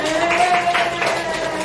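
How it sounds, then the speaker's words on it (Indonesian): A small group claps their hands together indoors, a short, moderately loud patter of clapping with no talk over it. "Nah, ya udah kita tepuk tangan."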